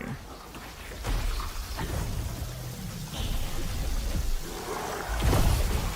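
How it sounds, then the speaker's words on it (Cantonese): Rain conjured by a mage's spell in a fantasy action video game, a steady hiss of rainfall with scattered droplet ticks and a low rumble swelling near the end, heard alone without voices. "所以佢預先整到落雨啊！"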